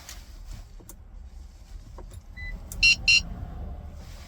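Two short, bright electronic beeps from a 2016-2018 Toyota Tacoma during key fob programming sound in quick succession over a low idle hum, preceded by faint clicks and a brief tone.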